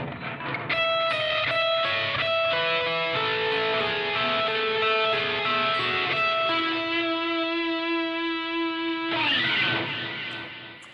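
An electric guitar with effects plays a quick melodic run, repeatedly returning to the same low note between higher ones, then holds a sustained chord at the end.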